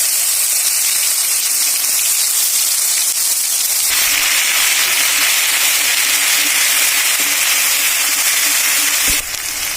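Mustard paste, green chili and cumin sizzle steadily and loudly in hot oil in a home kitchen, a continuous bright hiss that fills the whole stretch and dips only briefly near the end.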